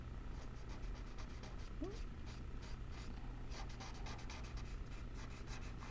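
A paper stump rubs and blends pencil shading on paper with a soft, continuous scratchy friction, close up, under a steady background hum.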